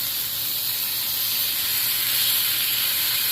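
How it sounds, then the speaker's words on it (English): Bacon strips sizzle in a hot pan while a low carb stuffed burger is prepared, a steady, fairly loud crackling hiss that runs unbroken with no talking. "let's start cooking some"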